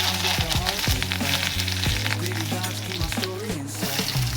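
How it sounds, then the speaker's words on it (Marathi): Mustard seeds splutter in hot oil in a kadhai, a steady close crackle and sizzle that runs the whole time beneath loud background music. "कढईत 1 चमचा तेल गरम करून घेऊ आणि यात मोहरी घालू। मोहरी तडतडली की जिरे आणि कढीपत्ता घालू।"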